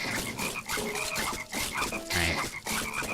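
Frogs in a video game croak repeatedly in quick, rhythmic bursts, loud and close, with layered calls overlapping throughout and no talking.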